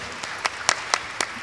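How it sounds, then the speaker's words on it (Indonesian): A few scattered, separate claps ring out from an audience at a women's stories event, sparse and uneven rather than a full ovation. "Tepuk tangan."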